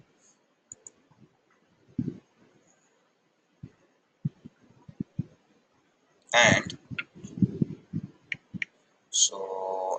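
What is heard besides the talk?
typing and clicking on a computer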